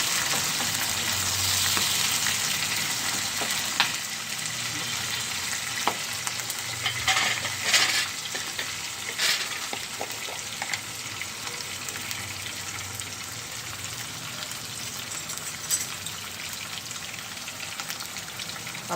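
Fenugreek leaves sizzling and being stirred in a hot pan while cooking a dried prawn tomato curry, a steady close frying hiss with occasional scraping clicks, no voices.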